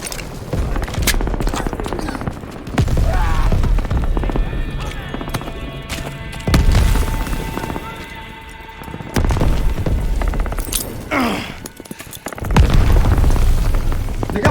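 Grenade blasts and gunfire in a Call of Duty WW2 D-Day beach battle, with loud booms standing out from a dense, continuous wash of combat noise, hoofbeat-like clatter and shouting voices throughout.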